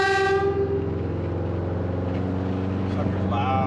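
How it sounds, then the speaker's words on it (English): Loud, sustained horn of a Subaru STI sounding continuously from start to end, with engine hum underneath and brief talk. "case you didn't hear the horn"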